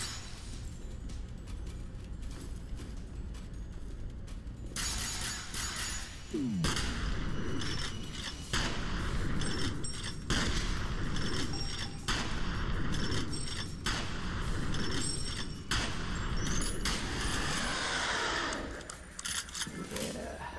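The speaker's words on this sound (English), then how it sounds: "Getting close in his face with a shotgun" Close-range shotgun fire in the PC shooter F.E.A.R. Perseus Mandate, in a clinic level, with loud blasts booming one after another over dense, roaring combat noise, with no talking.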